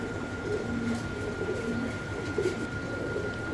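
A Madrasi golla fancy pigeon coos softly in a few short, low murmurs over a steady background hum.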